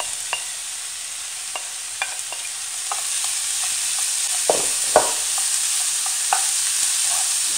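Close, steady sizzle of zucchini and julienned carrot frying with softened onions in a pan, broken by occasional light scrapes and clicks of a stirring utensil.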